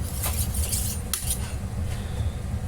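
A steel kitchen knife drawn against a sharpener in a few scraping strokes, close and fairly loud, with metallic rasps over a steady low hum.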